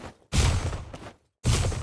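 Gunfire from the Free Fire MAX video game during a custom-room match comes as two loud, dense bursts of rapid shots, the first longer and the second starting after a short silence.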